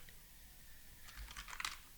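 Keys clatter on a computer keyboard in a quiet room, light taps at first and then a quicker, louder burst of close keystrokes near the end, with no voices.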